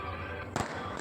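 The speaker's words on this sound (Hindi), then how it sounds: "और आतिशबाजी हुई" At a wedding celebration, a single sharp firework bang bursts out midway through a short moment, fairly close and loud against a steady background hum.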